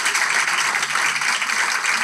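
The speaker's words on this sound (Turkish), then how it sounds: "Koca alkış kardeşlerime." Loud, continuous applause from a studio audience on a Turkish television show, a dense wash of clapping filling the whole moment without letup.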